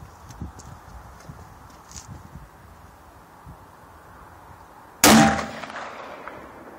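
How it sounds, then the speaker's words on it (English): A single loud, sharp gunshot from an early three-screw Ruger Blackhawk .357 Magnum revolver cracks close by and rings out briefly. It follows several seconds of quiet outdoor rustling and faint footsteps. "shooting a Ruger Blackhawk 357 3 screw, early 50 models."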